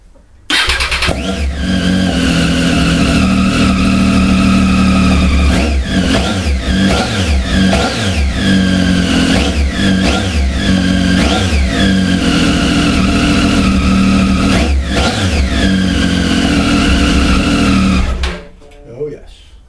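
Triumph Tiger 800 motorcycle with a big hole punched in its silencer, engine running loud and close, revved repeatedly in sharp bursts over a steady idle before cutting off.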